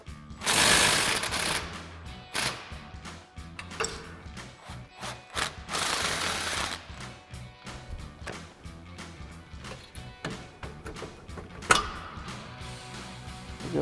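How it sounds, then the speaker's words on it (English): Impact wrench fitted with a 15 mm socket and extension driving out a suspension bolt on a 2016-2024 Camaro, loud bursts of rattling hammering buzz alternating with quieter ratchety clicks and handling noises, no talk. "we'll grab our 15 mil socket and extension on our impact for the front side here"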